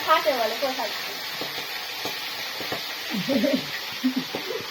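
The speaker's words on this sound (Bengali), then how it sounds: "এই মটরশুঁটিগুলো ভেজে নিচ্ছে" Green peas fry lightly in a pan for a rice dish, sizzling softly and steadily while people talk nearby.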